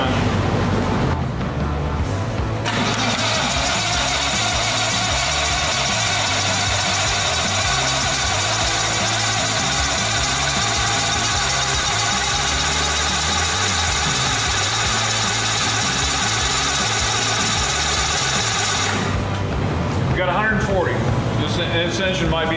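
A Lincoln SA-200 welder's engine starts and runs steadily at idle for about fifteen seconds, a loud even drone, then cuts off.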